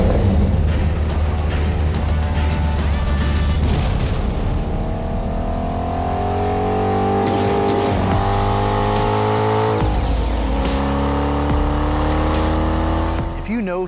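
A 2005 Saleen S7 Twin Turbo supercar engine roars, revving and climbing through gears, sustained and powerful, with shifting pitch as it accelerates close by.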